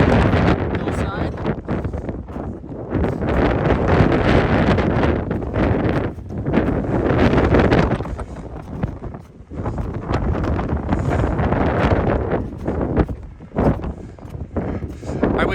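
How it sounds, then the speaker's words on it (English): Strong, gusty wind buffets the microphone in heavy, continuous roaring blasts that rise and fall throughout, loud and close, on a hillside of the snowy Tilly Jane Trail during a winter hike. "It is getting very windy here"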